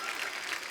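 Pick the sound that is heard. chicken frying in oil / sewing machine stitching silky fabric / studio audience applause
studio audience applause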